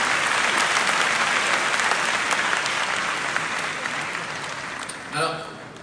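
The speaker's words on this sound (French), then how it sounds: "On l'applaudit plus fort encore" A large crowd at an awards ceremony for a top student in a 2018 national competition claps loudly and continuously, the applause slowly tapering near the end as a voice briefly rises over it.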